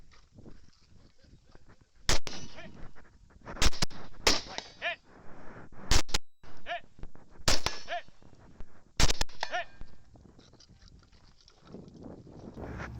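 Gunshots ring out at targets on a nighttime shooting course, several sharp, loud cracks spaced irregularly with metallic target clangs and movement noise between them.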